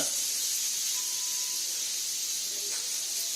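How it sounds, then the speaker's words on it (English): Lamb chops sear in a hot pan for a French Dijonnaise dish, giving a steady, loud sizzling hiss throughout with faint squeaky crackles and no talking. "I'm searing it."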